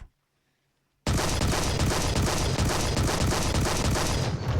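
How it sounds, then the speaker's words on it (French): After a second of silence, heavy rapid gunfire from an anti-aircraft cannon in a video game erupts and pounds continuously, a loud unbroken barrage of automatic cannon fire. "Ça c'est un canon anti-aérien."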